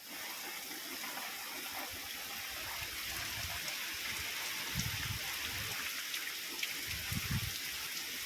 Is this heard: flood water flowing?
yes